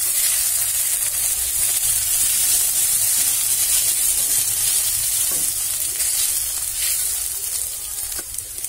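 Sabudana khichdi being stirred in a pan after salt is added gives a loud, steady sizzle and frying hiss close by, with faint scraping from the spoon and no talking.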